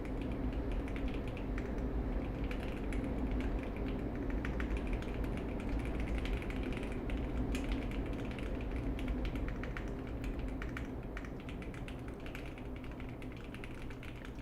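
Rapid, continuous clattering of keys on a mechanical computer keyboard, dense overlapping clicks at a steady close-up level throughout with no speech.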